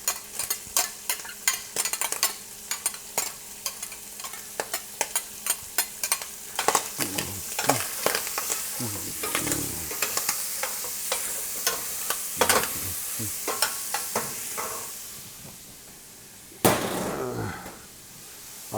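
Onion frying in a pan while being stirred, with a steady sizzle broken by frequent sharp utensil clacks against the pan, close and fairly loud. The sizzle briefly fades before a final loud knock.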